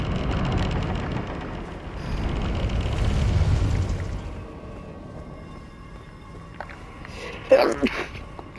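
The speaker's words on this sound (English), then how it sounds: "Sneezed." A single sharp human sneeze bursts out near the end, following a stretch of low rumbling game-like background noise.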